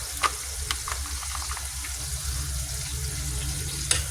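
Tomato paste sautéing in a pan while making buttered shrimp, a steady close sizzle and crackle with a few sharp taps of a utensil against the pan, no talking.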